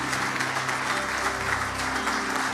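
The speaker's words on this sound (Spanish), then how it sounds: "Un aplauso fuerte al Señor." A church congregation claps loudly for the Lord during a worship service, sustained dense applause throughout with a faint low hum of music or instruments underneath.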